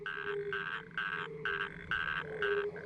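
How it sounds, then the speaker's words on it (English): Natterjack toads give loud, rhythmic rattling calls in quick succession in sandy areas of the Elbe River valley, several overlapping trills pulsing steadily up close. "in sandy areas resound with the long-lasting calls of natterjack toads."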